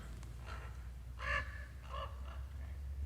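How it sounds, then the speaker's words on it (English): A crow at the Grand Canyon in Arizona caws several times in short hoarse calls, clear but somewhat distant, over a low steady background rumble of wind. "This crow has a lot to say."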